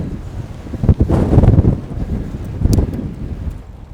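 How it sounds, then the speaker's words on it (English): Wind buffeting the microphone while bicycling on a breezy day, a steady low rumble with louder gusts swelling around the middle and again near the end. "Pretty windy."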